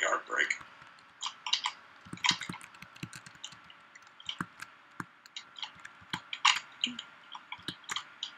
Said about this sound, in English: Ryan has a very noisy keyboard, so expect to hear lots of clicking.